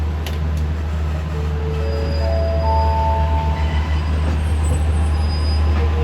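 An SRT southern line train rolls through a station at Surat Thani, a loud steady rumble of wheels on rail with rising tonal squeals from the cars, close and continuous with no voices.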